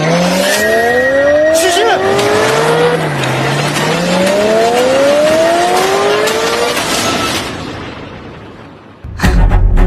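A car driven recklessly, its engine revving hard while tires screech in rising, sliding squeals, loud and close, then the noise cuts off abruptly; brief voices are heard.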